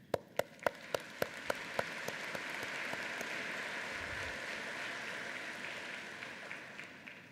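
Convocation audience in a ceremony hall breaks into applause, starting with a few sharp separate claps that quickly swell into steady, sustained clapping from a large crowd, moderately distant and even in level throughout.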